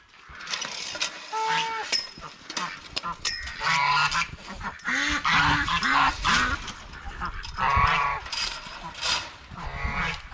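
Chickens crowd a farm coop being readied for winter, with steady overlapping clucks, squawks and honk-like calls. The birds sound close and fairly loud, with rustling and movement throughout.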